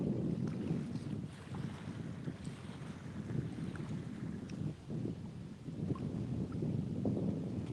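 A pleasure boat cruises past on the Fox River, its steady low engine rumble mixed with wind buffeting the microphone and lapping water, continuous throughout with no talking.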